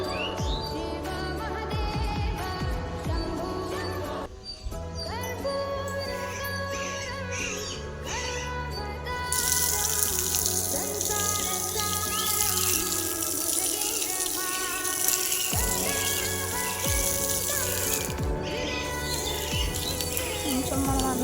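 Water runs from a tap as feet are washed at a temple, a continuous splashing flow close by, with chirping birds and background clatter around it.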